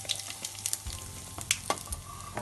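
Onions sautéing in oil in a pan as a pinch of asafoetida goes in, with a steady close sizzle and frying crackle broken by quick stirring scrapes, no voice.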